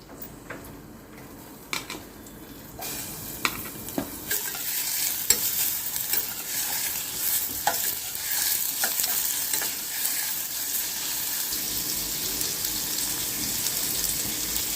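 Onions and green chillies frying in about three spoons of oil, a steady close sizzle with occasional scraping stirs that swell into a louder, continuous frying hiss.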